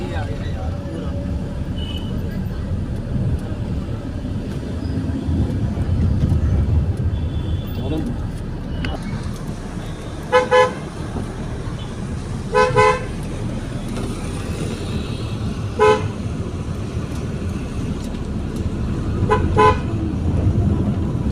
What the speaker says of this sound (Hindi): साथ ही ट्रैफिक भी हल्का हल्का सा शुरू हो चुका है